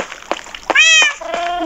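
A house cat meows loudly and close by, a long rising-and-falling meow followed by a shorter one, with brief thumps and rustling around it.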